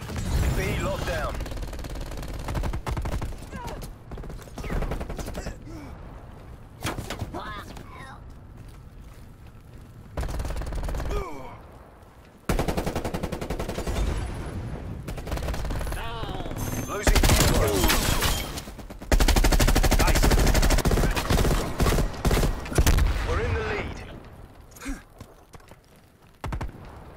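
Dense gunfire from the video game Call of Duty: Cold War plays almost throughout, with rapid automatic bursts, single shots and explosive blasts, loud and continuous, mixed with game effects and voices.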